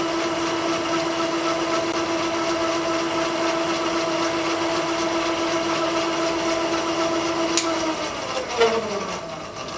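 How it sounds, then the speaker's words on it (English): A motor runs on a single plane balancing rig during a pocket balancer demo, giving a steady close hum with a constant whine that winds down near the end. "Turn the motor on this time and take a reading."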